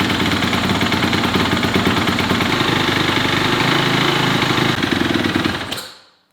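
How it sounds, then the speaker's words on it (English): A Honda CRF250R motocross bike engine runs at a loud, close, rapid idle, a steady chattering drone that continues for several seconds before cutting off and fading out at the end. "I'm going to start the motorcycle to get all of the oil flowing"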